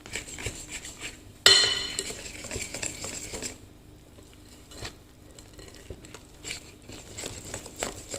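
Cookie dough with sifted cornstarch being stirred in a bowl for caramel peanut butter shortbread, with a sharp clatter of utensil on bowl followed by softer scraping and tapping, close and alone.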